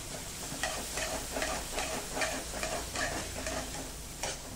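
Chopped onion sautés in a pan for lemon coriander soup, a steady close sizzle broken by regular scraping strokes of stirring.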